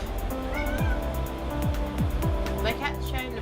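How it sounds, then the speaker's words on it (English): A pet cat meows repeatedly at a door trying to get in, several short drawn-out calls mixed with a voice talking, over steady background rumble. "my cat's trying to break in."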